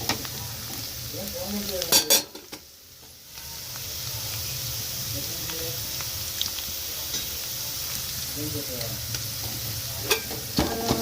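Whole spices such as cloves frying in oil in a pan for chicken curry, steady close sizzle with a spoon stirring and scraping in bursts, no talking.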